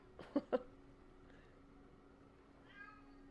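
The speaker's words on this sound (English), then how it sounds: "Whoa, did y'all hear that? Kitty says, it's dinner." A house cat meowing faintly in the background, a couple of short quiet meows close together followed by a softer one, heard against low room noise with no talking over it.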